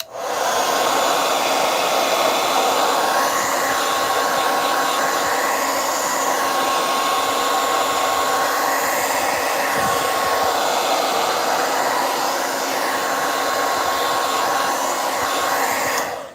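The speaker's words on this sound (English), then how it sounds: "I'm going to use the blow dryer for a second." A blow dryer runs continuously, giving a loud, steady whooshing hum with a faint tonal whine and no pauses.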